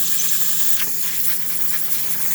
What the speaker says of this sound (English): we're having nice steady steam coming out of the machine